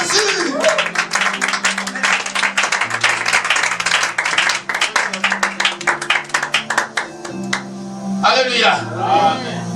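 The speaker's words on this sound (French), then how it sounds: "acclame Jésus" A church congregation claps and applauds in praise of Jesus during a sermon, with dense rhythmic clapping over music and voices, then a brief lull as talk returns.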